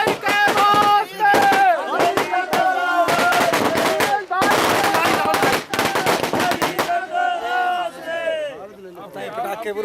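Firecrackers burst at a Congress party election campaign rally in rapid, loud, crackling volleys like gunfire, with chanting and shouting from the crowd mixed in.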